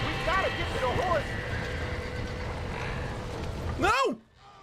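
In the Red Dead Redemption video game, a horse whinnies several times and hooves clip-clop. A loud, close final neigh ends the sequence, while someone talks over the game sounds.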